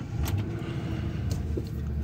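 A 2004 Ford Crown Victoria LX in immaculate condition with 64,000 miles idles steadily, a low, even engine rumble heard from inside the cabin with a few faint clicks on top.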